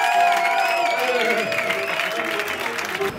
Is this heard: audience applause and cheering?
yes